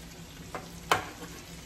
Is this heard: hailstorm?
no